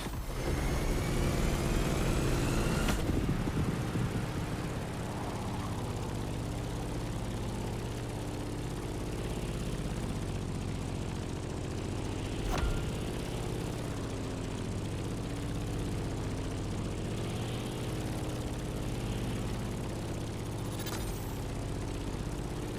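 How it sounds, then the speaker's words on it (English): A Grumman F8F Bearcat propeller engine in the video game The Crew Motorfest drones steadily, a low constant hum with layered harmonics, sharp clicks marking a few moments along the way. "In the cockpit of a stunning Grumman F8F Bearcat"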